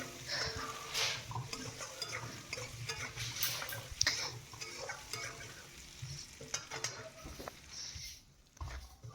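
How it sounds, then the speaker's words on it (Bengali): Boiled potatoes fry with salt and turmeric in a pan, a faint, steady sizzle with scattered spatula clicks and scrapes, quiet room background. "আমি আলুটাকে বয়েল করে একটু লবণ, একটু হলুদ দিয়ে ভালো করে ফ্রাই করে নিচ্ছি"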